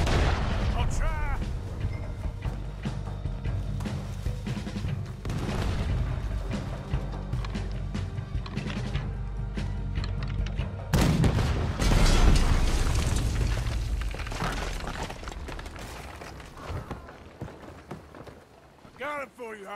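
Cannon and gun fire in the game Red Dead Redemption 2, heavy booming blasts and scattered shots amid a dense, loud battle din, with a big explosive hit midway and voices talking throughout.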